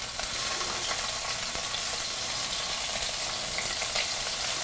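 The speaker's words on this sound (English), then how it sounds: "You want to hear all that sizzling." Steady, loud sizzling and crackling of shrimp frying in a hot pan, continuous hiss throughout with no talking.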